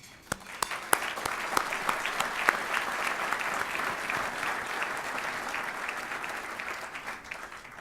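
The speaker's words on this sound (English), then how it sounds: "Please join me in applauding them all." An audience at a leadership gala applauds board members and council leaders, a dense, steady wash of clapping with a few sharper individual claps, sustained for several seconds at moderate distance.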